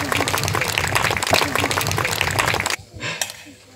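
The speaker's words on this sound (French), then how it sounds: "Merci messieurs, vous pouvez les applaudir" A live audience applauds two volunteers at a costumed historical show, dense broadband clapping filling most of the clip before cutting off abruptly into near silence with a brief voice at the end.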